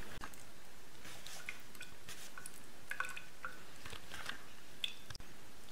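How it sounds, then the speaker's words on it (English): Cold water drips through an adjusted valve, making faint, irregular small drips and trickles close by against a quiet hiss. "I'm going to do some experiments with just cold water to see if I adjust this valve, can I get a reasonable flow rate."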